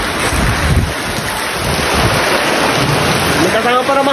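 Strong wind buffets and roars steadily with a rushing, noisy texture, gusts during a heavy rainstorm, continuous and loud throughout.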